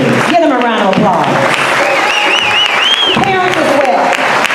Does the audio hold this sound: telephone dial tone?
no